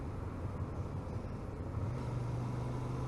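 A BMW car pulls away nearby in traffic, heard as a faint, low engine drone that rises in pitch partway through.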